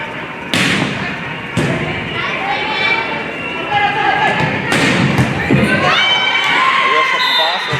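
A volleyball thuds loudly off an air conditioning unit in the Capello Gym during a high school girls' match, one sharp impact rising over a shouting, cheering crowd with further bangs and squeaks around it.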